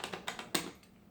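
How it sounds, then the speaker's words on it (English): Clicky buttons on a Mad Catz Street Fighter V arcade fightstick, a few quick close taps in an uneven run, with no talking. "The buttons are kind of clicky, so you can hear the nice click to them."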